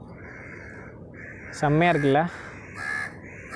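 Crows at a river barrage with water and a bridge on a morning ride, giving a couple of loud, harsh caws over low background rumble while someone speaks briefly.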